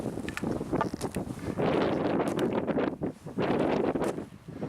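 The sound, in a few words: wind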